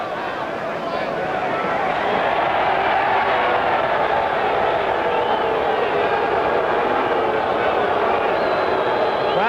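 A boxing arena crowd jeering at heavyweight Ernie Terrell during his fight with Gerhard Zech, a dense continuous roar of many voices with a commentator talking over it.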